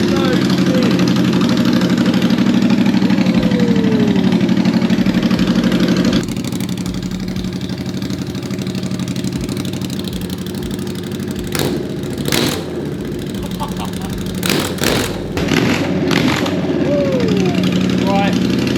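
A car fitted with a custom exhaust is started and settles into a loud, rumbling idle close by. The tone shifts partway through, with occasional revs and bursts, and people talk over it.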